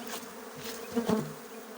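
A steady drone of many honey bees buzzing close by around a hive, one bee swelling louder as it passes near, with a constant hum underneath.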